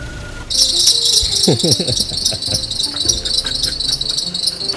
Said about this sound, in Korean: 그 안에 보이는 이 풀리 벨트 저게 돌면서 이게 약간 헛돌면서 나는 소리거든요